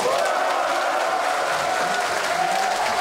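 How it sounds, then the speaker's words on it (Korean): A crowd erupts in sustained applause and cheering, celebrating a region winning a bid for a next-generation synchrotron radiation accelerator; the dense clapping stays steady and loud for the whole stretch, with no talk over it. "기쁨의 환호성이 터져나옵니다."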